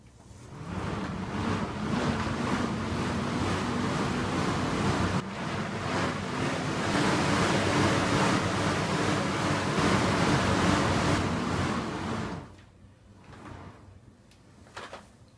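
A Bowflex Max Trainer M5 exercise machine running under a user, producing a loud, steady whooshing rush with a rhythmic pulse from its cycling motion. It fades abruptly near the end and leaves faint movement noises.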